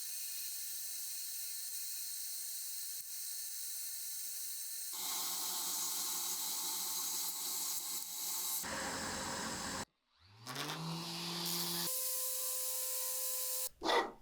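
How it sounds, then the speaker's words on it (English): A spindle sander shapes the claws of wooden salad servers, giving a steady abrasive whir and hiss that changes pitch as the wood is pressed in, broken by a short pause partway through. "So back to the spindle sander I go to slowly refine and shape these claws."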